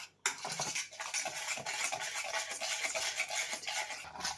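Rava cake batter being stirred in a bowl, heard as a close, steady run of soft scraping and swishing strokes that continues for several seconds with no voices.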